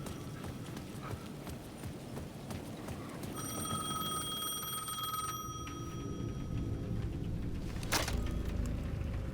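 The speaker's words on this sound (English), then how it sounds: "The payphone at the edge of the plaza was ringing again." A payphone rings at the edge of a plaza in the Alan Wake 2 video game. A steady electronic ring sounds for a few seconds over a constant, noisy outdoor ambience, with no voices.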